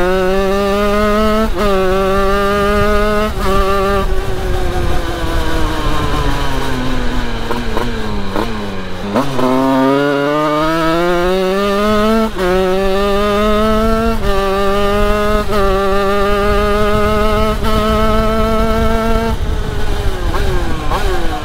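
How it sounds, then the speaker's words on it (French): A Rieju MRT Pro 86cc motorcycle engine with an aluminium top end runs loud and close, its buzzing whine rising through the gears in repeated revs, one dip to a low idle, with odd noises in the mix. "le moteur il fait quand même 2-3 bruits chelous"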